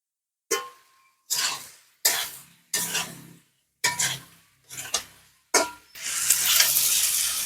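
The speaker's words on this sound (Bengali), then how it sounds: "আলু কপি কষানো হয়ে গেছে সুন্দর" Fried cauliflower and potato tossed in hot oil with chilli, several distinct scraping stir strokes against the pan, each followed by a brief sizzle, ending in a longer, louder continuous sizzle.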